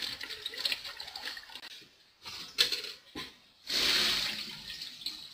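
Cold tap water runs and splashes over eggshells being washed, coming in irregular gushes and spatters with short pauses, close up and moderately loud.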